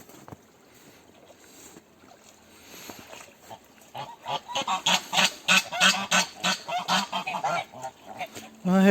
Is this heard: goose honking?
yes